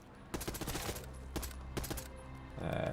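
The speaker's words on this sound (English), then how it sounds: "The Tonto 22? It's not like insane, but it peppers up pretty nicely and actually has decent stability for a SMG." Rapid bursts of Tonto 22 submachine gun fire in a video game, several clustered volleys of quick shots with short pauses between them, close and loud, ending in a steadier tonal hum.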